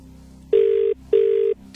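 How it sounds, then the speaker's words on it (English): A telephone on a game show gives two loud, clear electronic ring tones of equal length, each lasting under half a second and separated by a short pause, over a low background hum. "You must answer the phone within 5 rings."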